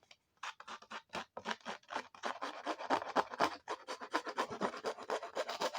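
Rapid rhythmic scratching along the edges of a paper card to give a torn, distressed look, a series of short dry rasping strokes, close and quiet, with no talking.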